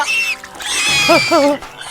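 Pigs grunt and squeal in a comic film scene, making two short, rising and falling nasal calls close by after a stretch of mixed background sound.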